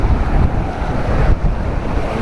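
Ocean waves crash on the beach at Pantai Seuru in Aceh Selatan, with a loud, continuous rumbling surf and heavy wind buffeting the microphone close by.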